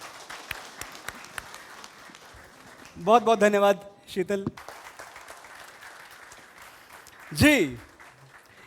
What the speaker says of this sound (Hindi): इस शुरुआत के लिए भी जोरदार तालियां।